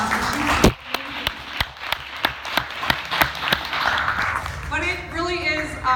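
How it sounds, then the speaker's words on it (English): At a county Democratic party gathering, a scattered handful of separate claps for a live music performer sound in a loose, uneven rhythm, with people talking around them. "So I think that we should give her a round of applause."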